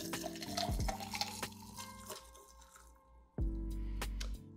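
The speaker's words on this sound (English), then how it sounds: "we're gonna pour into our tiki mug" A cocktail is poured over crushed ice into a tiki mug, with wet splashing and trickling, a few drips and ice clinks, then a second stronger pour near the end, close and quiet.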